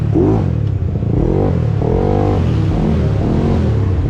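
A racing motorcycle engine revs loud and close in repeated rising and falling surges, each burst climbing in pitch before dropping back, with no voices over it.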